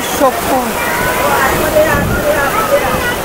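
Sea waves surge into village houses at Pajpandhari on the coast, making a steady, loud rush and slosh of water close by, with voices talking over it.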